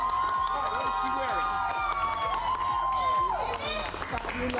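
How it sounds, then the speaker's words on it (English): An audience claps and cheers for Milian as she walks a red carpet to pick a prom dress, a steady wash of applause and excited voices with music and speech over it. "Round of applause for Milian."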